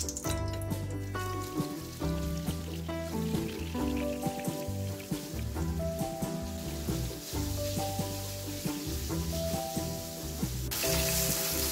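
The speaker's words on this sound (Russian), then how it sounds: "Обжариваю яблоки на растительном масле с добавлением" Apples fry in vegetable oil with melted butter, oil sizzling and crackling steadily in a hot pan, a dense frying hiss that continues throughout with soft background music.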